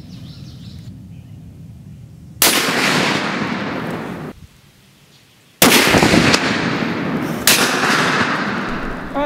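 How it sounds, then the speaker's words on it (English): A Barrett M99A1 .50 caliber rifle fires three loud, close shots outdoors, each a sharp blast followed by a long rolling decay, with a quieter gap between the first two. "Alright, Deb, we just got done shooting your Barret M99 A1."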